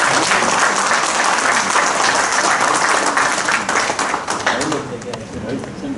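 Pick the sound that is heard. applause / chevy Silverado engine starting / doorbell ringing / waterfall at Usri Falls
applause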